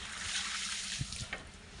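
Tap water runs for washing a floor at home: a brief, steady, soft hiss of flowing water, close by and fairly quiet, with no talking.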